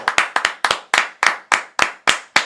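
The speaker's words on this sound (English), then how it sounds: "I was clapping for how you read that with passion." Hands clap about a dozen times in a steady, fairly quick rhythm, each clap sharp and close, with no talking over them.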